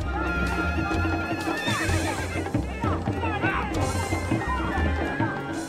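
Horses whinny and neigh amid a noisy crowd during the Afghan horseback goat-dragging game in Chitral near the Pakistan-Afghan border, with hoof clatter and shouting voices mixed in a dense, loud outdoor scene.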